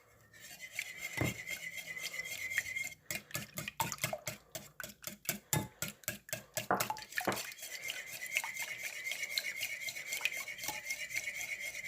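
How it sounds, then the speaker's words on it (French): Waffle batter being whisked by hand, starting with a steady background hum, then a fast, rhythmic run of sharp clicks and scrapes of the whisk against the bowl before the steady hum returns. "Je touille avec mon fouet."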